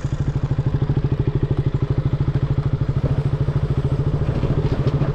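A motorcycle engine idles close by with a steady, rapid thumping beat that holds even and loud throughout, with no voices.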